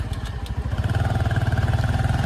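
A motorcycle ridden through village roads toward Dimakuchi market, its engine chugging in a steady, close, rapid pulse that holds even throughout, with no talk over it.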